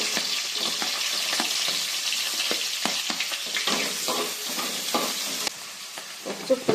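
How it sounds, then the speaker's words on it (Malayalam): Ten to fifteen halved shallots fry in oil with a steady, close crackling sizzle, broken by repeated clicks and scrapes of stirring. "എണ്ണ ഒഴിച്ചതിലേക്ക് കുറച്ച് ചെറിയുള്ളി ഇടാം"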